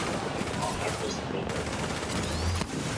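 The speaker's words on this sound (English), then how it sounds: "Who's shooting me?" Rapid bursts of video game gunfire crackle in a dense, loud fusillade that fills the moment, with a voice talking over the shots.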